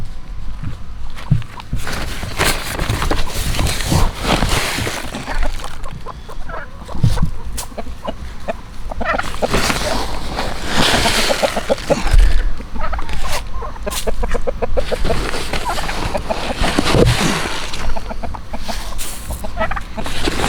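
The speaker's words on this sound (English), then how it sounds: "Chickens like to scratch" Several chickens cluck and squawk nearby, with scratching and footsteps in the dirt, busy and irregular throughout.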